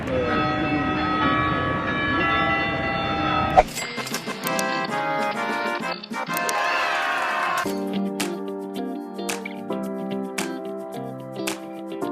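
Church bells ring out in a European town, sustained ringing tones overlapping, then a run of sharp, separate strikes that repeat at fairly even intervals and sound moderately close.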